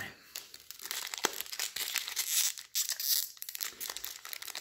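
Foil wrappers of Commander Legends Magic booster packs are torn open up close, giving dense crinkling and crackling with sharp rips and brief pauses between bursts.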